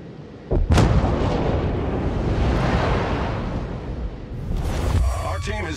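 Heavy ship artillery booms out in a naval battle video game, a sharp salvo crack followed by a long rolling roar and rumble that lingers, ending with another burst of firing.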